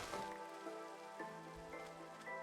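Steady rain pours in a desert area of a video game, a continuous even patter heard alone over a faint musical drone, with no speech.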